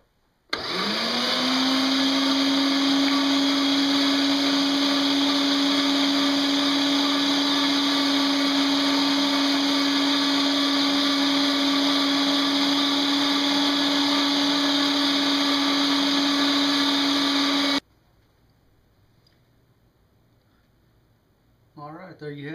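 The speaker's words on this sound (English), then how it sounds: "we're gonna send it through the grinder one more time" An electric meat grinder runs steadily while grinding venison mixed with pork fat, a loud continuous motor whine with a fixed pitch that holds for about seventeen seconds, then cuts off into near quiet.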